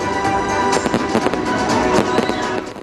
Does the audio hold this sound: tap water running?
no